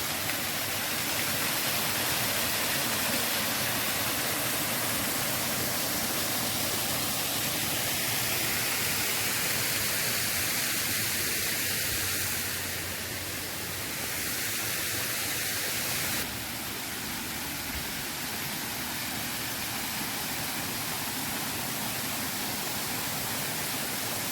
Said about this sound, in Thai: ทางนี้ก็มีน้ำตกนะคะ ไหลอย่างตกอย่างแรงเลย